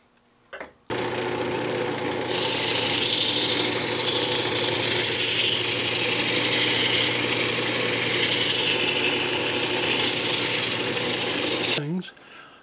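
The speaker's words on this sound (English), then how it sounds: "And just sanded it up." Power sanding on a wooden bandsaw box, a steady continuous whine with a low motor hum running loud and close for about eleven seconds, starting and stopping abruptly.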